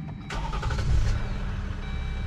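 Jeep Wrangler or Gladiator diesel engine cranking and firing after a fuel filter change, a sharp start followed by a steady close idle rumble.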